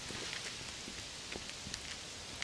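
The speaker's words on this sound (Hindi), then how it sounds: "सब कुछ खत्म हो गया और देखो बारिश भी हो रही है।" Rain falls as a quiet, continuous hiss with scattered small drop ticks, soft and steady throughout, with no voices over it.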